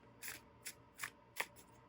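A thin, glossy, bendable tarot deck is shuffled by hand in four quick riffling bursts, crisp papery flutters close up in a quiet room.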